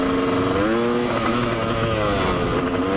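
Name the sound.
Honda CR500 dirt bike engine revving on throttle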